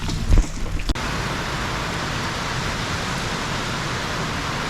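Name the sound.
rain showers during a thunderstorm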